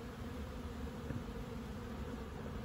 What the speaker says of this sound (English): I don't know if you can hear the noise from all the buzzing.